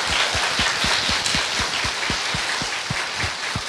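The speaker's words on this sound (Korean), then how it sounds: "박수 좀 부탁드립니다" A live audience at a Korean political talk show recording applauds a guest, a thick wash of many hands over a steady, rhythmic thump running under it.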